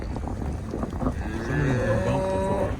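A cow lets out one long, drawn-out moo at moderate distance outdoors in Montana hunting country, with a low rumble of wind and ambient noise underneath.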